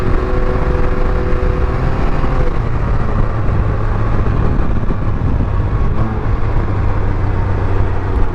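A Can-Am Ryker three-wheel motorcycle rides steadily along a road, its engine droning loud and close with constant wind and road roar throughout, and a low hum shifting slightly in pitch partway through.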